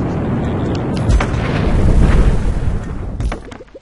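A big cannon-fire explosion from the video game Cannon Brawl, a loud rumbling boom that swells and rolls on with crackling bursts, heard alone without talk.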